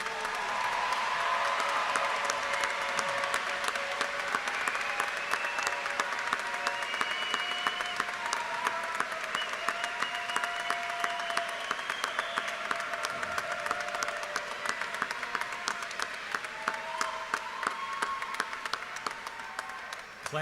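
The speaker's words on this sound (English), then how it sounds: "Can we get one more round of applause for all of our students?" An audience at a high school senior graduation ceremony claps in a sustained round of applause, a steady dense patter of many hands, moderately distant in a large hall, with some cheering and murmuring voices.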